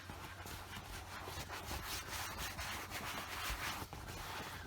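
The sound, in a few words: rubbing conditioner into coated leather by hand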